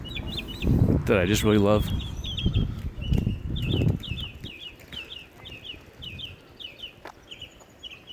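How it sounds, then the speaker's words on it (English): A loud bird on a deserted beach area in St. Armands gives repeated short, sharp calls in a steady series, while a person talks over the opening seconds before the calls continue alone. "There's another one of those loud birds"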